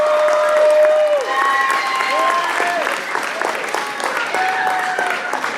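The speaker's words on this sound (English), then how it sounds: "can we give our 8th grade MCs a round of applause?" At a school talent show, the audience applauds the 8th grade MCs with loud, sustained clapping and scattered cheers, while high tonal whoops and voices ring out over the crowd.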